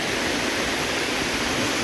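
Water rushing down a cascade at thermal pools near Pitigliano, a steady, loud, broadband roar close by with no change and no voices.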